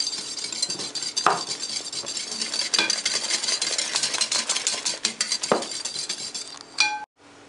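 Batter for blondies is whisked by hand in a bowl, heard as a quick, steady clinking and scraping of the whisk against the sides, with a few louder knocks, close up over a low hum.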